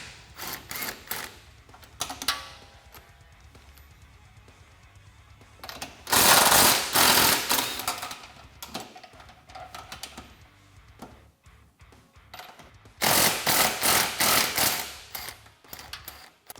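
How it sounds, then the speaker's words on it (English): Two loud bursts of a power tool, likely an impact wrench, rattle off the nuts on the radius arm bolts of a Honda Talon 1000 side-by-side. Quieter clinks and handling noises fill the gaps between them. "go through and remove all the nuts off of the radius arm bolts"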